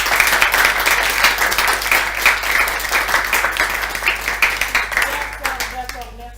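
Applause rises from an audience honouring a guest at an electrotechnics course session, loud and dense at first, then thinning into scattered individual claps near the end, with a steady low hum beneath.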